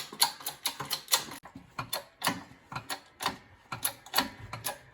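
A socket ratchet runs down a bolt on the mechanical fan bearing of a Jeep Cherokee XJ. It gives quick, close, rhythmic ratcheting clicks in steady bursts with no talk.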